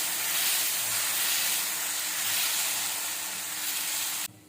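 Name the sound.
dosa batter sizzling on a hot griddle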